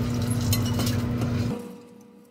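Wet solids from silver cell anode filter refining tip from one glass beaker into another with light glassy clinks and a soft rattling slide over a low steady hum that fades out.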